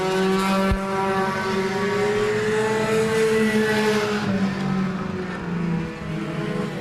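Race cars roar around the Laird Raceway track on a Thursday night, engines droning loud and steady with a sustained rising tone and a brief sharp crack near the start, no voices over the din.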